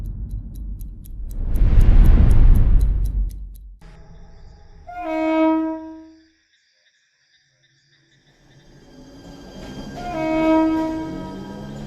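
Train sounds from an animated horror short: a broad rushing rumble builds and fades, then a sustained tonal horn or whistle sounds twice with a quiet gap between, fairly close and loud.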